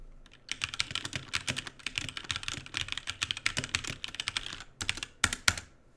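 Rapid, continuous clatter of keys being typed on a computer keyboard, recorded through a USB microphone, steady and close, with no voices.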